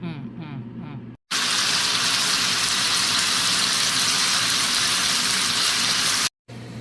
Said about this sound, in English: Gonna stir fry it up.